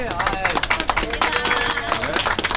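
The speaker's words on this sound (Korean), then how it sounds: "박수 쳐줘야지" A group of people applauds to congratulate a prize winner at a fishing event, brisk dense clapping throughout with a voice talking over it.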